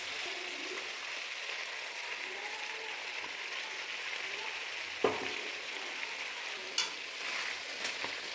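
A chicken curry with ground onion-tomato paste gets stirred in a pan, a faint steady bubbling simmer with soft scraping and a couple of sharp utensil knocks near the end.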